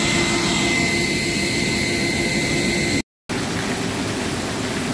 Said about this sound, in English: you're just shampooing the carpet